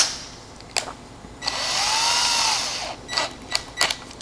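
A countersink bit in a power drill whirs in a few short bursts and one longer spin that rises and falls, fairly close and fairly quiet, with no talk over it.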